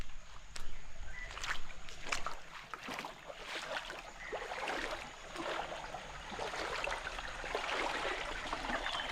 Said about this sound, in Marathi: अकडनं पहिला भरपूर पाणी येत होता आणि आता हळूहळू कमी होत चालला